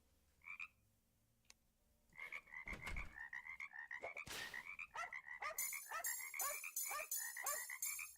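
A video game frog croaks in a rapid rhythmic series, loud and close, repeating steadily for several seconds after a quieter opening with a couple of isolated sounds.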